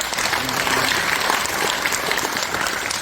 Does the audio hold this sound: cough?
no